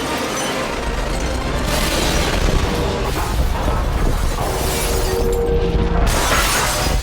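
A loud cinematic explosion from a movie helicopter crash booms with crashing, shattering glass and debris, a sustained roar of destruction that swells in bursts.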